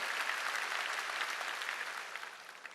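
An audience claps together throughout an indoor evangelism rally in a sports arena, a dense, even patter of many hands sustained at moderate distance and tapering slightly at the end.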